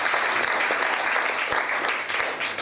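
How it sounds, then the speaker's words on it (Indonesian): A church congregation at a Sunday morning service breaks into steady, dense applause that fills the room, continuing without a break at a fairly loud level. "Tepuk tangan, saudara."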